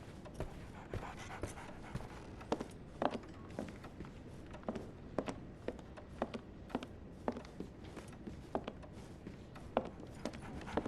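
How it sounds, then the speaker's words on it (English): A dog pants in the game Sherlock Holmes: The Awakened, giving quick, rhythmic breaths with soft taps scattered through them, fairly close and moderately loud with no talk over it. "So, Barnes has a dog now."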